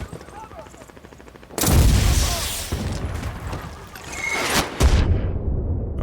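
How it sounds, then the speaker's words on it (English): Grenade launcher firing in Medal of Honor 2010 multiplayer: a sudden loud blast with a rolling rumble, followed by a second thump and scattered battle noise, with a player talking faintly underneath. "Grenade launcher."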